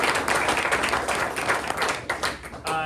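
Luncheon audience clapping in a room, a moderate scattered patter of hands with individual claps audible, fairly close and fading toward the end.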